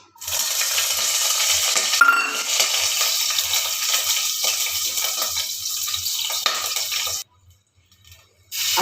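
Green chilies fry in oil for chana masala with a loud, even sizzle and occasional scraping stirs for about seven seconds. The sound cuts out to near silence, then returns briefly at the very end.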